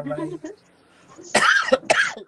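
At a live show, someone speaks briefly, then after a short pause gives two loud, harsh coughs close to the microphone.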